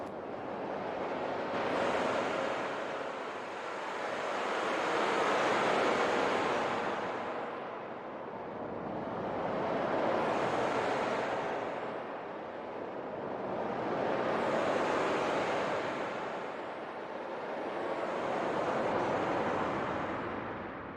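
Synthesized background noise shaped by bandpass filters and slow modulation, a hissing wash that swells and fades in long, even waves like distant surf, steady and fairly quiet with no speech.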